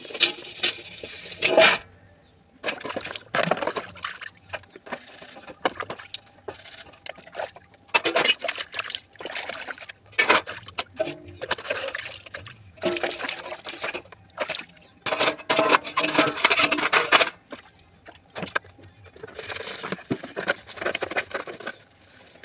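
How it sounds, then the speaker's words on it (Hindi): Dishes being washed by hand in a village home, with repeated scrubbing and rubbing of pots, clinks and splashes in bursts, close and fairly loud. "आप लोग से बात करते करते मेरे बर्तन भी धुल जाते हैं"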